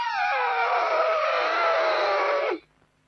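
One long trumpeting elephant note holds steady for about two and a half seconds, then cuts off abruptly into quiet.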